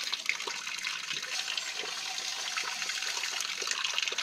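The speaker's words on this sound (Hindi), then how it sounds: "धुल गए हमारे बर्तन और भर लिया पानी" Water runs and splashes steadily outdoors at a mountain campsite while dishes are washed and water is filled, a continuous close trickle with faint clinks and no voices.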